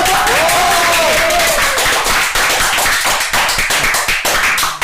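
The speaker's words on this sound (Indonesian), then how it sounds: "kita kasih tepuk tangan dulu kawan-kawan" A small group claps together to welcome a co-host on an Indonesian creative-entrepreneur podcast, with loud, dense, close clapping running throughout.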